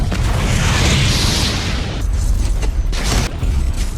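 A nitroglycerin canister explodes on K2, setting off an avalanche: a deep, rumbling blast roars loudly and then rolls on as a continuous low rumble, with a few sharper bursts near the end.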